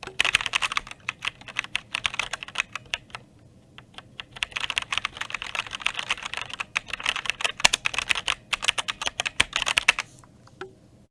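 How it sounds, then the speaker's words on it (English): Keys clack continuously on a SteelSeries Apex 7 mechanical keyboard recorded close up, with fast irregular typing running in bursts and a brief lull near the start and end. "now we're going to do a quick check of how the keys sound"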